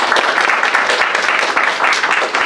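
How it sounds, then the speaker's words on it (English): Classroom audience applauding a sixth period presidential primary debate candidate, a steady dense patter of many hands clapping close by for a few seconds, with a faint murmur of voices underneath. "let's give him another round of applause"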